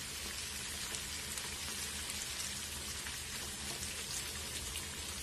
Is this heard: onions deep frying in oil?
yes